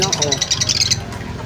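Several birds chirp and call in quick repeated bursts close by at a bird and chicken sale in Dasmariñas City, Cavite, then fade, with background murmur and movement.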